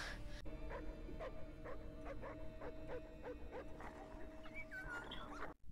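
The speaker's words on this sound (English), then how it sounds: "Their dog is barking now." Dog barking in the 2002 film Signs, a run of regular barks at a steady rhythm, sounding some distance away under a tense, droning soundtrack with a few higher tonal swells near the end.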